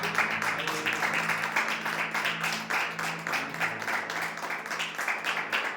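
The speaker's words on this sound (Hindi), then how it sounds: "प्रभु के लिए तालियां बजाते हुए उसको महिमा दें।" A church congregation claps together through a worship service, a steady, moderately loud wash of applause with voices mixed in.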